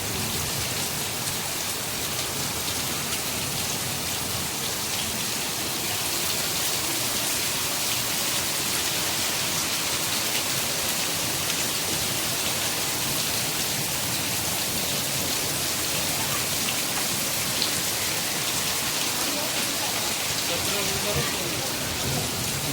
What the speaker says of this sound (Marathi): पहा किती खूप सारा एकदम जोरदार पाऊस आहे